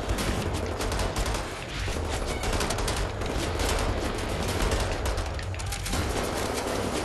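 Sustained bursts of automatic gunfire and explosions in the first-person shooter Wolfenstein: The New Order, loud and dense throughout with rapid repeated shots and no break in the barrage.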